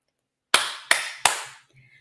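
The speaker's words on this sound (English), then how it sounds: "Now, I will clap" Three sharp single hand claps close to the listener in quick succession, each with a short ringing room decay, followed by near silence.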